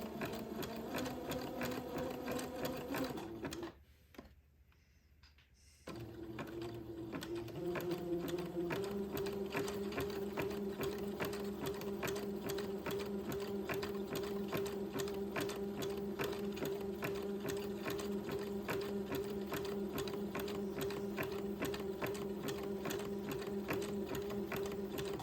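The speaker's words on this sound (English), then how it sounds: "I'm going to carefully just zigzag to finish off the edge of this tab" Domestic sewing machine running zigzag stitches to finish the edge of a fabric tab, a steady fast whirring hum with rapid needle clatter, a brief pause near the start, then continuous even stitching, fairly quiet and close.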